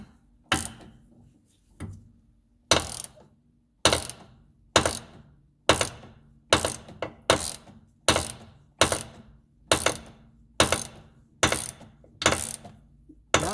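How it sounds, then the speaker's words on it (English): Loud, sharp ratchet clicks tightening a front stabilizer link nut on a 2006 Volkswagen Jetta TDI, short bursts repeating steadily every half second or so, close up with nothing else heard. "Thread that guy up nicely by hand and begin ratcheting."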